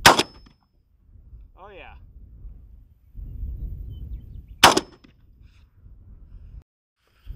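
Hatfield SAS shotgun firing Kent turkey loads, two sharp loud blasts several seconds apart, each followed by a short echo, with outdoor background noise and a man's brief remark between the shots.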